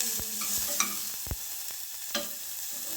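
Spice powder being stirred and fried in a pan for a light sambar, with scattered scrapes and soft sizzling taps at close range, fairly quiet and without talk.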